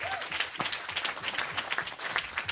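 Audience applause at a live talk event, steady dense clapping from a crowd filling the whole moment at moderate distance.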